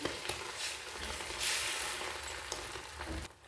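Beaten egg batter poured into hot mustard oil and spread around the pan for a spicy egg and vegetable roll, giving a soft, steady sizzle with a few light taps, quieting abruptly just before the end.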